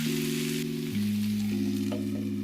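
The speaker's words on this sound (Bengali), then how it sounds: "গ্যাসের আঁচটা লো ফ্লেমে করে আর একটু নেড়ে চেড়ে আবার ঢেকে দেব" Prawn curry simmers in a pan over a low flame while being stirred, a soft, steady sizzle under sustained, stepping musical tones.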